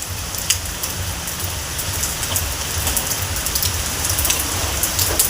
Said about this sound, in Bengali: একটু তুলে ধরার চেষ্টা করেছি অবিরাম বৃষ্টিতে